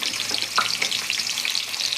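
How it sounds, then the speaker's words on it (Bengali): Potatoes frying in hot oil in a wok for a Bengali dish, a steady bright sizzle with faint crackles, close and continuous, no voices. "আলুটা ভেজে নেব লাল লাল করে"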